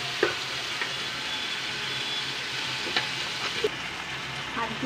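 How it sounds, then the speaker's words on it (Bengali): Turmeric, cumin, salt and red chili sizzle and fry in a hot pan, a steady crackling hiss broken by a few sharp stirring scrapes and pops. "মশলাটা লাল করে কষানো হয়ে গেছে"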